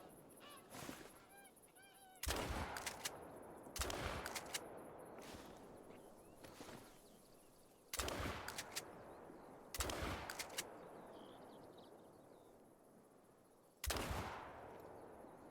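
A goose hunt in the video game theHunter: Call of the Wild: geese honk in the distance, then about six loud gunshots boom one at a time at irregular intervals, each with a rolling outdoor echo.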